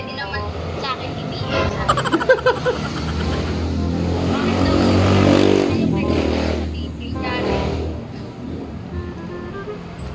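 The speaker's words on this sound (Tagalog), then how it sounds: "Ang ingay ng mga motor dito" Motorcycle engines rumble and rev nearby, swelling louder in the middle, with people talking over the traffic noise throughout.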